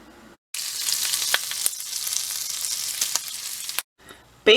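Bacon crackles and spits in a pan, a loud, dense, close sizzle that holds steady for about three seconds, with a few sharper pops, then cuts off abruptly.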